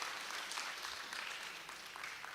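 An audience at an industry interaction session in a campus hall claps for a participant, a steady wash of moderate applause lasting a couple of seconds without talk.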